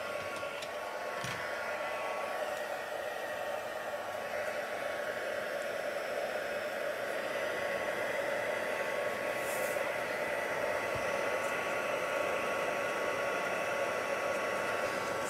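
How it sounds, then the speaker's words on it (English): A heat gun on its first heat setting blows a steady, even hiss of hot air over a wet handmade Christmas card, constant and moderately close with no talking. "dry it off a bit with my heat gun because it's quite wet"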